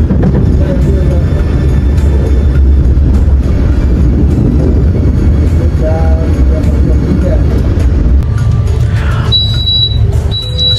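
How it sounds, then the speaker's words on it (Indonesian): The Argo Sindoro express train pulls into track 2 at Cirebon Kejaksaan station with a loud, continuous heavy rumble and rolling noise, and brief tonal whines and voices heard over it near the end. "Jam 9:37 kereta api Argo Sindoro masuk di jalur 2 stasiun Cirebon Kejaksaan"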